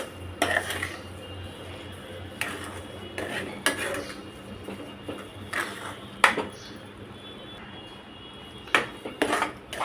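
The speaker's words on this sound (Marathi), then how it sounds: "साखर विरघळेपर्यंत ढवळत राहायचं" A spoon stirs sheera, a sweet semolina pudding, in a metal pan, producing repeated clinks and scrapes against the pan at an irregular rhythm over a quiet, low background hum, with no talking.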